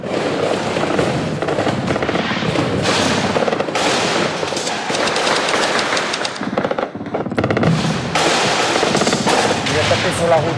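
Nighttime gunfire crackles during armed clashes near the French ambassador's residence. Dense, rapid volleys and bursts repeat almost continuously and loudly, with a brief lull midway and some voices mixed in.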